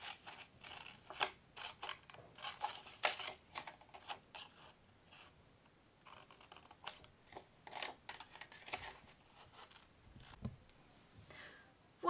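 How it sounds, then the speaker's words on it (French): Scissors cut paper for a winter pop-up card, snipping in quick, irregular bursts of crisp close clicks and rustles, with quiet pauses between cuts and no talk. "j'ai fini de découper. Bon, je mets les ciseaux sur le côté par sécurité."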